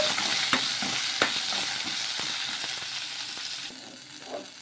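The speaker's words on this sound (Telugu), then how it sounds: "ఇలా ఈ విధంగా నూనె వేడెక్కిన తర్వాత వేసేసుకొని అలాగే కారానికి తగ్గట్టు పచ్చిమిర్చి కూడా వేసుకోవాలి ఇప్పుడు ఒకసారి బాగా కలిపేసుకొని మగ్గించుకుందాము" Green chillies fry in hot oil as they are stirred, a dense loud sizzle with regular sharp spatula scrapes and taps against the pan, quietening slightly toward the end, no speech.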